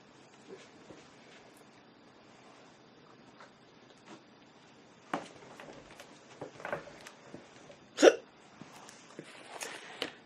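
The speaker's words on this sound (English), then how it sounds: "I got the hiccups" A woman's hiccups during a quiet adult coloring session at home, a few sharp isolated catches scattered over about five seconds, amid soft rustles and faint room noise.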